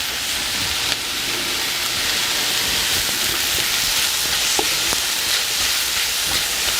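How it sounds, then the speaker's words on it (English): Garlic and bell peppers sizzle steadily in a hot pan for a chicken stir-fry, a continuous close frying hiss with a few faint clicks of stirring. "I'll add my garlic in. I'll throw our peppers in."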